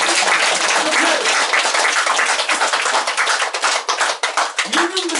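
Audience clapping during a lecture: loud, dense applause that thins toward the end into more distinct individual claps, with a voice briefly audible near the close.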